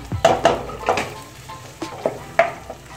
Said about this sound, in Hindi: हम डालेंगे इसमें कट किए टमाटर इनको अच्छे तरीके से मिक्स करेंगे